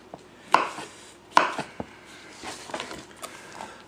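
Knife chopping fresh mushrooms on a cutting board for chili, two sharp loud thunks followed by softer scattered taps and light clatter, close by with no talking.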